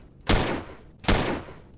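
Two heavy turret blasts from a base defense in the space survival game Empyrion, each a sharp loud report trailing into a rumbling decay, spaced about a second apart with a third starting at the end.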